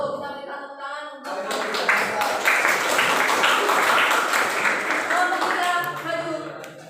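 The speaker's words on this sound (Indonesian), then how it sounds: "Kita berikan tepuk tangan untuk" Classmates and teacher clap after a school history presentation, a lively burst of applause rising quickly and holding for several seconds before fading, with talking before and after.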